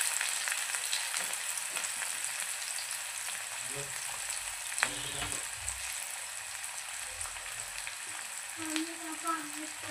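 Green chilli, cumin and onion fry steadily in a pan for rava upma, a continuous sizzle with a few soft stirring scrapes and clinks over about ten seconds, no talk.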